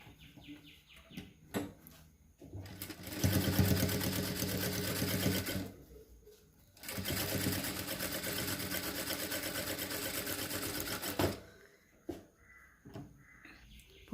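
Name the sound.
sewing machine stitching a blouse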